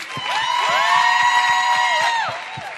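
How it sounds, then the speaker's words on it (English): Audience at a closing ceremony cheering for UBC a cappella, with rising whoops and shouts held for about two seconds over a steady, rhythmic patter of clapping. "Let's give a round of applause to UBC a cappella, please."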